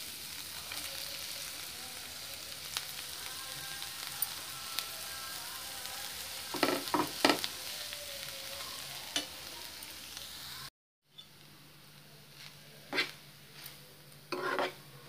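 Cooked rice for paneer fried rice is stirred and tossed in a sizzling pan, giving a steady low frying hiss with scattered scraping and clinking of a spoon against the pan, including a brief cut midway.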